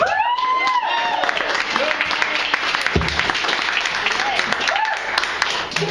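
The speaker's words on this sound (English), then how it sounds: "Give it up for Mr. Andy Luttrell" Audience applause at a comedy show as a comedian takes the stage in a garage venue, dense clapping and whoops filling the space, with a few louder individual shouts rising above the steady clatter.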